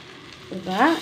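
Dried fish tossed into masala frying in hot oil for an aubergine and dried-fish curry, a sudden close sizzling burst that rises sharply halfway through and keeps crackling loudly.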